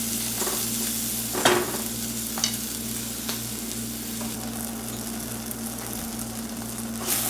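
Onions and apples sautéing in a pot for pumpkin soup, a continuous close sizzle with occasional stirring scrapes and a steady low hum behind, no talking.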